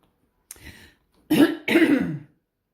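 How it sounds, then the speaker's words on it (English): A person clears their throat twice in quick succession after a brief faint sound, close and fairly loud, with no talking. "Right, clear my throat."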